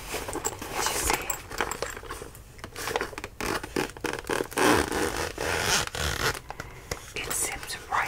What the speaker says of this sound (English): It zips right open.